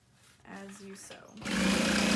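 A sewing machine stitches around the box of a bag's lining, starting with a few short bursts and then settling into a steady, close whir; a voice talks over it.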